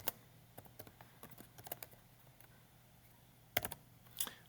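Quiet keys click on a computer keyboard in short irregular bursts, with pauses between them and a louder cluster near the end, close by over a low hum, with no voices.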